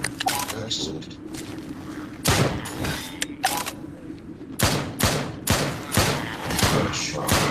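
Repeated gunshots in the video game Drop Dead: Dual Strike, loud bursts firing every second or so across the stretch over a steady game backdrop, with voice lines sounding between shots.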